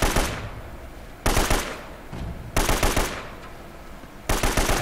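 Bursts of automatic gunfire from enemies in the video game Uncharted: Drake's Fortune, four loud rapid volleys separated by short pauses, with no talk over them.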